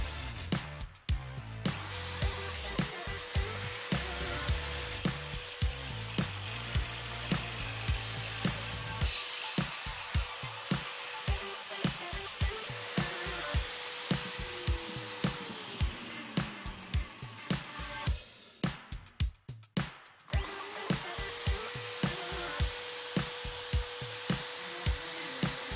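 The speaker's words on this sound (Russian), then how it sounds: "Поменял я диск на тонкий отрезной." Thin cutting disc on a power tool grinding textolite for PDR tool tips, a steady whining hum with short pauses and restarts, quiet and heard alone.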